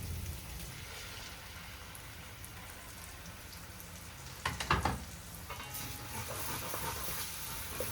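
Tomato paste poured into hot oil for Murgh Mughlai, sizzling steadily and close, with a louder, sharper burst of crackling midway as it hits the pan; no voices.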